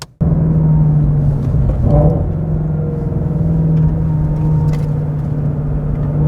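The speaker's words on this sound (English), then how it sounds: "let's take it out for a spin." A 2020 Ford Shelby Mustang GT350R on the road gives a loud, steady engine drone with a constant low hum and road rumble, holding nearly even throughout with no talking.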